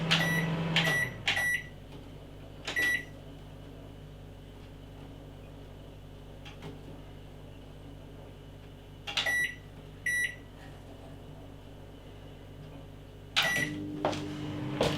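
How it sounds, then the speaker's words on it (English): A microwave oven runs with a steady low hum, broken by several short, sharp beeps from its controls. It is heard close up, with no one talking. "Stuck the microwave on the wrong setting."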